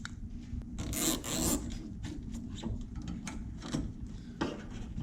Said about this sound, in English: we're just gonna zip tie it to that so it's not just flopping around in there